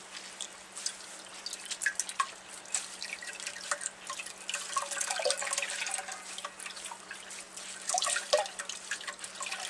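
Water drips steadily from wet, freshly dyed yarn as it is gently squeezed by hand, a soft scattered patter of droplets close by with no talking.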